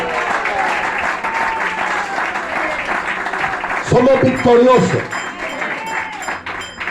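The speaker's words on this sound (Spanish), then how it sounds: "Denle un fuerte aplauso al Señor" A church congregation breaks into loud, sustained applause and cheering at an evangelical service, the clapping dense and continuous throughout, with a preacher's voice speaking over it and a brief shouted phrase rising near the middle.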